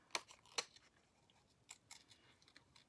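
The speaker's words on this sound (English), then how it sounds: "So we just easily cut this out." Scissors snip through a paper card, cutting out a tiger shape. Two crisp close snips sound near the start, followed by a few softer cuts, all fairly quiet and alone.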